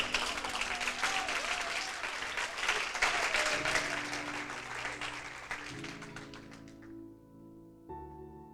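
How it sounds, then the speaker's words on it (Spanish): A church congregation breaks into loud applause that thins out gradually and fades, leaving a held tone alone at the end. "Eso fue mongo, ese aplauso."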